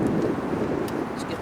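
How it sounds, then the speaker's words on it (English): Gusty wind buffets the microphone on an open road in Alaska beside a KTM 690 motorcycle, a steady low roar with faint rustling bursts throughout. "It's getting a little windy."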